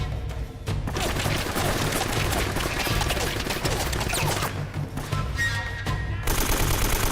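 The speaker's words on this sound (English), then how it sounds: "homie up top is just like hitting me with that machine gun turret" Sustained rapid machine-gun turret fire in Uncharted: Drake's Fortune, a dense, loud stream of shots running almost the whole time with short breaks and crashes mixed in.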